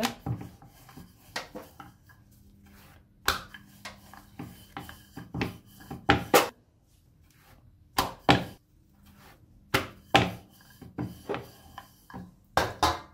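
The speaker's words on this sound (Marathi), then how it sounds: "आपण आता एवढी पोळी अशी लाटून घेतली." Spinach puri dough is rolled out with a rolling pin, producing soft rubbing strokes broken by irregular close thumps and knocks against the board, with quiet pauses between.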